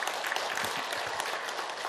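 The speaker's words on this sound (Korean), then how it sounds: "여러분 다시 한 번 더 큰 박수를 보내주십시오" An audience claps at the close of a regional expert forum, a steady dense wash of applause with no talk over it.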